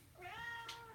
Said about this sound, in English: My cat's freaking out right now. I think you can probably hear him in the background.